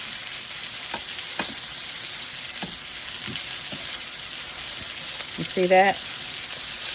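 A steak sears in a hot pan with a steady, close sizzle and occasional sharp pops and scrapes, while someone speaks briefly over it.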